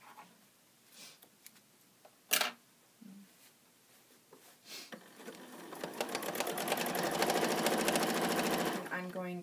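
A sewing machine free-motion quilting pebble circles through a pinned quilt sandwich: a few soft handling knocks give way to a steady, rapid, loud motor hum and needle chatter that runs continuously for the last few seconds.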